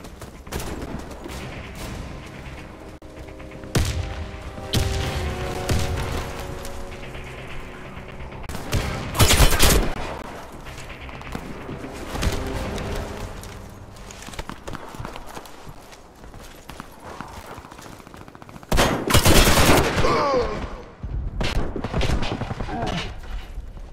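Gunfire in the online shooter Warface during a plant-the-bomb round: bursts of rapid shots and bigger volleys at intervals, with footsteps and game effects between them.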